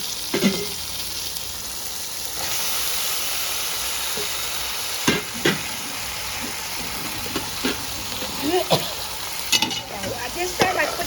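A tomato mixture with fresh herbal seasoning frying in a pan, a constant hissing sizzle marked by occasional stirring knocks and scrapes.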